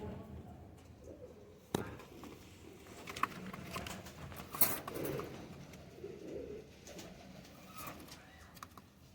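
Young pigeons coo softly in pairs, a faint, low cooing with a few sharp taps and rustles over quiet background noise.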